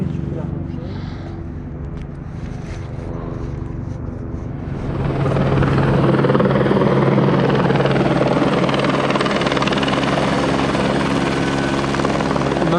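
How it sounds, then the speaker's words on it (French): A gendarmerie helicopter rumbles overhead, starting distant and swelling into a loud, steady rotor roar that stays close for the rest of the stretch. "accompagné des balais incessants de l'hélicoptère de la gendarmerie"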